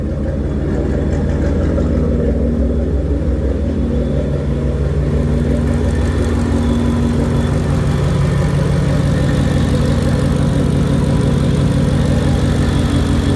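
Deep, steady idle from a 2013 Shelby GT500 engine, a loud, close rumble with a lumpy low pulse that holds evenly for over thirteen seconds without any voices.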